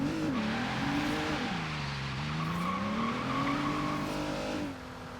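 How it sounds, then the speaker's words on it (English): Video game car doing a burnout, engine held at high revs with a continuous droning whine that dips and climbs in pitch, steady and loud throughout before easing off at the end. "Oh, and you can still do burnouts."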